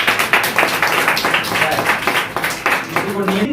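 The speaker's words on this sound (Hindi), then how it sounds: "जोरदार तालियां" Loud applause at a Good Friday church prayer gathering: a crowd claps in a steady, rhythmic beat, with voices mixed in under the clapping.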